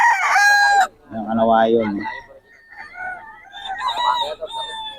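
Young roosters, seven-month-old stags, crow loudly up close, one long harmonic crow followed by clucking and further crowing calls, with someone talking in between.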